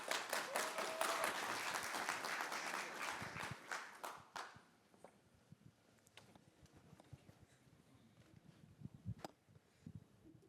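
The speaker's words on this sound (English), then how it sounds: "Let's give her a nice round of applause, y'all." An audience at a tech consulting talk applauds as a presenter walks onto the stage. The clapping is dense and loud for about four seconds, then thins to a few scattered claps and room noise.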